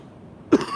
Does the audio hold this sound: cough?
yes